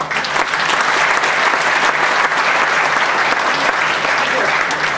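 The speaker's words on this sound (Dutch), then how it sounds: "Dames en heren, mag ik u hartelijk applaus voor de jubilaris" Guests at a jubilee reception for the machinery firm Hoopman Machines give sustained, loud applause, a thick and unbroken wash of clapping from the whole room.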